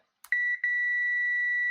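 After a faint click, a multimeter emits a steady, continuous beep close up, briefly interrupted once before holding its tone.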